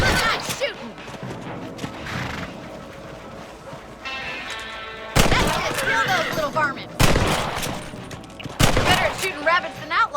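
Several sharp, loud gunshots crack out in quick bursts while hunting rabbits in the video game Red Dead Redemption 2, over game ambience, a horse's sounds and occasional character speech.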